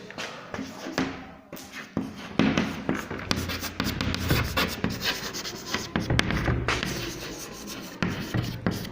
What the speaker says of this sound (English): we write question number 8